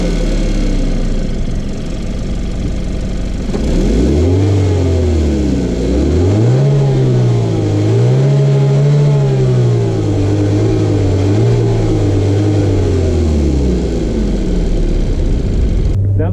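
2018 Hyundai Kona 1.6-liter turbocharged inline four-cylinder engine, heard close up, idling steadily then revved several times in rising and falling swells before settling back to idle, loud with no talk.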